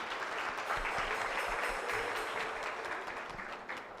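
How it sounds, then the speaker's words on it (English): Sustained applause from an audience at the 2021 Nairobi Legal Awards ceremony: a dense, steady wash of many hands clapping for about four seconds, easing slightly at the end, with no talk over it. "I think she deserves another round of applause."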